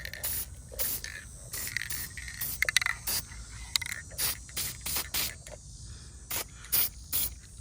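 Short hissing bursts from a spray can of sealant on a conifer pruning wound repeat in quick succession, close by, in a garden with insect chirps faintly in the background.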